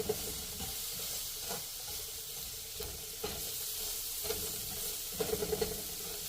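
Food frying in a pan with an all purpose seasoning, a continuous close sizzle and hiss with a few soft stirring knocks and clinks scattered throughout, no voices.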